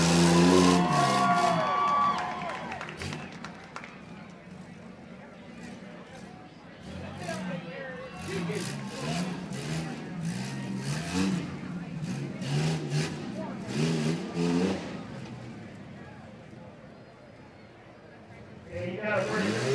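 A 1993 Ford Ranger rough truck races at a county fair, its engine revving and roaring in surges at a distance beneath an announcer and crowd murmur, fading out and swelling back near the end.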